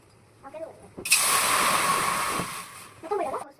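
Water pours into a cooking pot on a lit stove for boiling rice, a loud broadband rushing hiss lasting about two seconds, with faint talk before and after.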